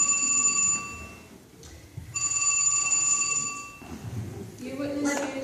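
A telephone rings in repeated bursts, a bright electronic trill sounding twice with a pause between, while voices talk over it during a stage pageant performance.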